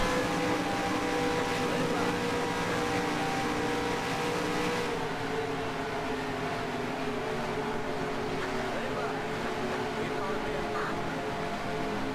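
A stock car engine roars steadily at high revs in the NASCAR Racing 2003 racing game, a continuous loud drone with shifting pitch and faint talk underneath throughout.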